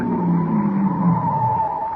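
Car tires skidding to a stop in an old radio drama, a loud continuous screeching squeal lasting about two seconds with engine rumble underneath.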